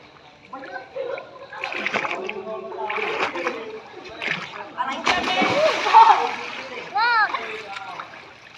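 A mother swims and splashes in water, with repeated sloshing and splattering bursts up close while voices chatter and call out over much of the scene.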